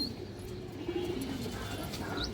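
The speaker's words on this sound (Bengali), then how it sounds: "এই যে দেখেন মাদি রিং চোখের কৌতর পুরান জাতের কৌতর" Old-breed female ring-eyed pigeon cooing up close, a low soft burbling coo rising over faint background noise, with no talking.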